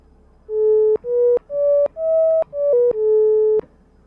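A plain sine wave from the Tau Hydrae mono synth with vibrato switched off: six steady, pure held notes stepping up and down in pitch, each ending with a small click, heard alone.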